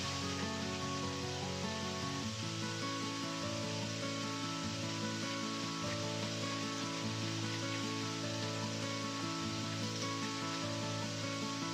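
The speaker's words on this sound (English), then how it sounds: "So my water is boiling." Salted water for pasta at a rolling boil in a pot, a steady broadband bubbling hiss running unbroken throughout, with a low hum and tonal kitchen background beneath.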